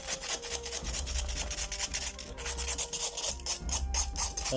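Continuous rough scraping across the roasted skin of Macau roast pork (siu yuk), a close, dry rasping made of quick repeated strokes, steady and moderately quiet with no talking.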